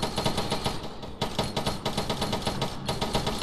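Rapid sustained automatic gunfire laying down suppressing fire in the military shooter game Arma 3, loud and close, with bursts rattling almost continuously and one brief pause partway through.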